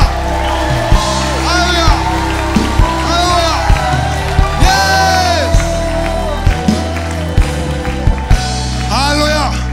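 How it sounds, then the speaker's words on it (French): A church congregation cheers, whoops and claps in praise of Yeshua, with loud crowd noise running throughout and repeated sharp shouts and cries rising over sung and spoken voices. "Applaudissez pour Yeshua."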